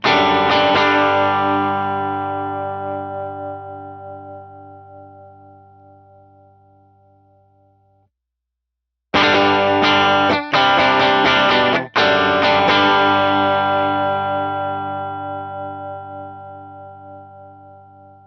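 Sustained electric guitar chords ring out and decay, stop briefly, then return with a few choppy strums before another long fading chord, evenly compressed and smooth, played through a subtle LA Studio compressor effect.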